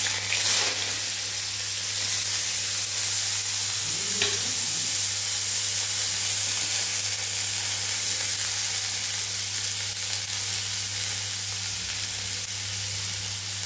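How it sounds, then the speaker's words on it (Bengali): Black mustard seeds and vegetables fry in hot white cooking oil, giving a steady, close, even sizzle that barely changes and is heard alone without voices. "সাদা তেল গরম হয়ে গেছে, এবারে আমি কালো সর্ষে একটু ফোড়নে দিয়ে দেবো"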